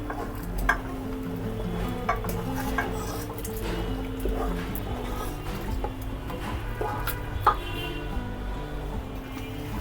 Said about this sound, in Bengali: নাড়তে হবে যাতে করে হাঁড়ির নিচে লেগে না যায়।